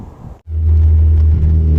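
A Saturn Sky out on the road after a transmission fluid change, heard from inside as a loud, steady low engine drone and road rumble that sets in after a short dip.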